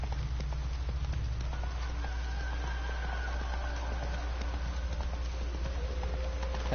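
Steady clip-clop of horse hooves trotting in The Witcher 3 video game, an even rhythmic gait under a soft rain-like patter and a low continuous drone.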